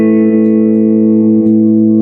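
An electric guitar played through the distortion channel of a Friedman BE-50 amp holds a thick, saturated sustained chord, loud and steady with a faint pick attack partway through.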